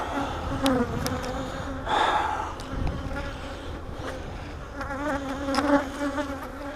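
Honey bees buzz loudly and continuously close by at a hive, a dense droning hum with a few brief louder passes.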